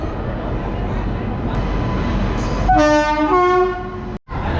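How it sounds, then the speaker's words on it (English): A train arriving at a station in Rajasthan, India rumbles loudly nearby, then a long, loud horn blast sounds twice in a row before the noise briefly cuts out. "The train is here"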